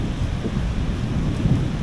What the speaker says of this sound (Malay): Dengar bunyi guruh tu